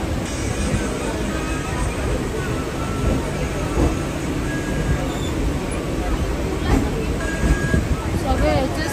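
A crowded passenger train runs with a constant rumble and rattle from inside the carriage, overlaid by a dense babble of many passengers chatting nearby.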